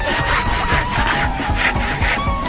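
Large hand saw cutting through wood in a timed cutting challenge, rhythmic back-and-forth rasping strokes, roughly two per second, loud and close with no talk.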